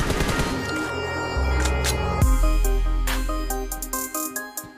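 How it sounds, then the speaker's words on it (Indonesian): Rapid automatic gunfire in the mobile battle royale game PUBG Mobile, fired while crouching, loud close bursts with a brief break, then separate shots and ringing tails, no speech. "Dan untuk nembak sambil jongkok ini saya rasa cukup pas lah teman-teman ya."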